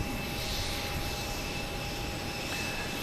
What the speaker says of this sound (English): We have American Airlines heading to Chicago. 737-800.